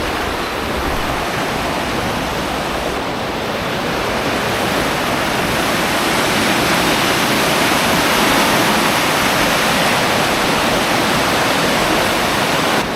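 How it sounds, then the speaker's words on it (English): Fast-flowing, muddy river running high, a steady loud broadband roar of rushing water filling the whole stretch with no talking. "So as you can see, very fast flowing, very muddy water."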